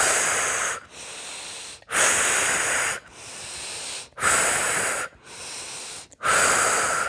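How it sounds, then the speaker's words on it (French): Deep, energetic in-breaths during a relaxation exercise, five or six strong hissing inhalations in a regular rhythm separated by brief pauses, close to the microphone with no talk. "Nous prenons quelques inspirations beaucoup plus toniques."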